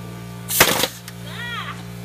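A framing nail gun fires once on a house-framing job, a sharp, loud close crack over a steady hum, followed by a faint squeal.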